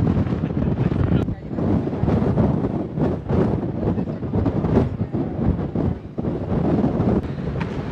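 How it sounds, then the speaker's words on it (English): Strong, steady wind gusts buffet the microphone at an exposed spot on the Pacific Crest Trail a few miles from Warner Springs, a loud continuous roar and rumble that fills the whole stretch without letting up. "It's just a windy spot."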